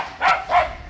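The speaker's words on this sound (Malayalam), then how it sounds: "പട്ടി ഭയങ്കര കൊര" A dog barks twice in quick succession, loud and close, with nothing else in the short burst.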